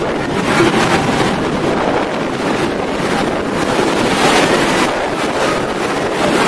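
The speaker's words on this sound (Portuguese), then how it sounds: "A praia tá perfeita hoje." Seaside beach on a windy day, with strong wind buffeting the microphone over a continuous wash of waves and surf, loud and unbroken throughout.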